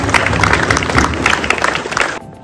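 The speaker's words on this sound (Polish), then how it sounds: "Wielkie brawa." A crowd at a youth Easter basketball tournament in a sports hall claps loudly for the mayor, a dense, close burst of many hands that runs steadily for about two seconds and then cuts off abruptly.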